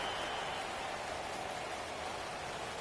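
Steady rain comes down during a football game between the Jaguars and the Bengals, a dense, even hiss with no voices.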